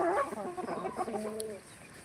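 Free-range desi village hens clucking on a poultry farm, a few close birds making short warbling clucks and calls that fade toward the end, with no talk.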